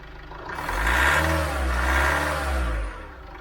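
A 2021 LDV G10 van engine rises from idle to about 2,000 rpm, holds with a dip in the middle and a second swell, then falls back toward idle; a steady close, mid-pitched drone with no talking.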